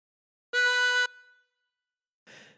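One drawn note on hole 4 of a chromatic harmonica, a reedy held tone lasting about half a second before stopping, followed after a pause by a brief soft breathy sound.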